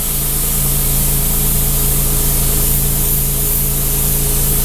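Paint sprayer misting a light shade of color at a Shaker Woods craft show, a loud steady hiss close by that runs unbroken with a low motor hum beneath, no talk.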